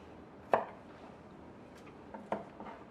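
Knife chopping a scotch bonnet pepper on a cutting board: two sharp, separate chops about two seconds apart, close and fairly quiet, with a few lighter taps after and no talking.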